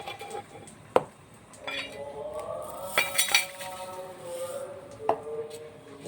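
A spoon tips sugar into a grinder jar for a creamy dry fruit ice cream, giving a few sharp metallic clinks and light scraping against the jar, close and fairly quiet, with no talk over it.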